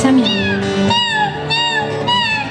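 A voice imitates a cat, drawing out several wavering meows one after another, close and clear over a soft musical background.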